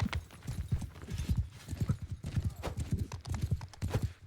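Horse hooves clatter in a fast, steady galloping rhythm during a video game match, loud and close throughout, with occasional faint whinnies and a game commentator talking over them.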